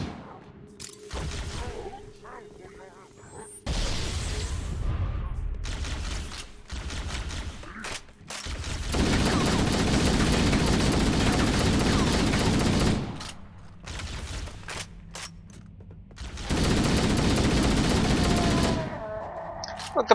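Needler fire from Halo: Combat Evolved gameplay: bursts of rapid crackling shots come in several loud, dense stretches broken by short pauses, with other game effects mixed in.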